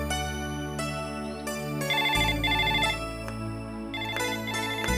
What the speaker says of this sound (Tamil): போன் அடிக்குது பாரு, எடுப்பா